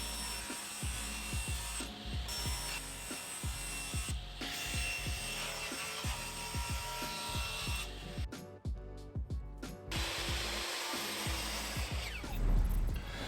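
Hand-sawing wood back strips for floating shelves, a steady run of rhythmic push-pull strokes close by with a brief pause partway through, then rubbing and handling noises at the end.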